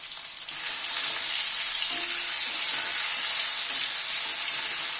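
Small parboiled, peeled winter potatoes with a little salt sizzle steadily in hot oil, a dense close frying hiss that starts abruptly and holds without a break, with no voices.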